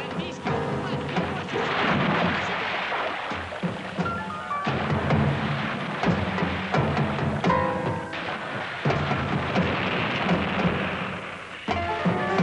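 Heavy wartime artillery bombardment, dense rolling booms and rumbling blasts continuing almost without pause at loud level, with a rain-like crackle spread across the whole sound and no voices.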